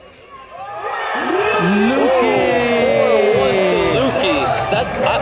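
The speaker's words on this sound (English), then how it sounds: "Wow, the crowd's going crazy out here." At a yo-yo competition finals event, a large crowd cheers loudly with whoops and shouts that swell and hold. A voice calls out over the roar.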